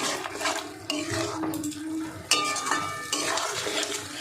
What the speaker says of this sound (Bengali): এবার আমি যে ডালটা সিদ্ধ করে রেখেছিলাম সেই ডালটা এর মধ্যে দিয়ে দেবো। একটু মিশিয়ে নেব মশলার সঙ্গে।